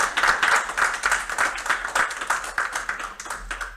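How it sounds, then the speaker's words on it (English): Students in a classroom clap for a visiting marine biologist guest presenter, giving a few seconds of close, moderately loud, uneven applause with individual hand claps standing out. "a round of applause for you"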